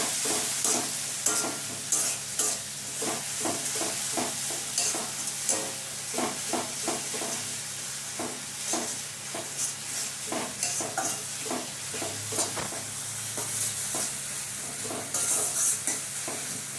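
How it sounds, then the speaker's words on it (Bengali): Tilapia fish and spices being stirred in a hot pan for a curry, a steady bright sizzle of frying oil punctuated by repeated rhythmic scrapes and clinks of a spatula, close and continuous with no talking. "ভালো করে মিশিয়ে নিচ্ছি মশলার সাথে"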